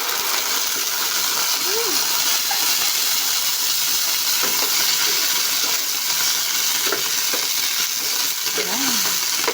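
Sardines dropped into a pan of sautéed garlic and onion, sizzling steadily with stirring scrapes throughout, a close, continuous frying hiss with no talk.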